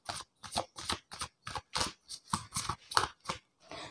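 Tarot cards are handled and drawn from the deck in a quick run of about a dozen crisp, papery rustles and snaps, evenly spaced, close and clear with no talking.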